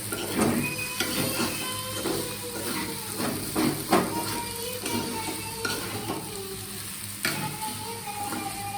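Egg noodles stir-fried with sauce in a hot pan, with a steady sizzle and scraping, clattering strokes of a utensil repeating through the whole stretch, close and fairly loud.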